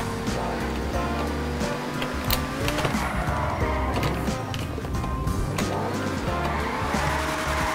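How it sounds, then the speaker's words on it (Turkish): A Grotti T20 supercar drifts in GTA 5, its engine revving up and down with repeated tire squeals and skids, loud and close, with faint background chatter. "bakalım T20 nasıl kayıyor arkadaşlar"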